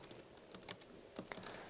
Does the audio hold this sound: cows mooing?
no